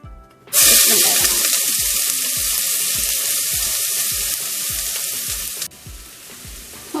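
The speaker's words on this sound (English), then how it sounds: "our onions is getting like golden brown" Onions fry in three to four spoons of oil in a pan, a loud, hissing sizzle that bursts in suddenly and holds steady for about five seconds before dropping, with regular low thumps repeating underneath.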